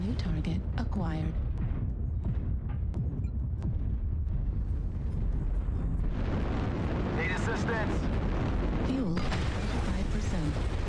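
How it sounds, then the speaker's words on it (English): A missile salvo in MechWarrior Online slams home in a rolling, roaring wall of explosions that swells loudly in the second half, over constant battle rumble and faint voices. "Ooh, that guy just ate a big salvo."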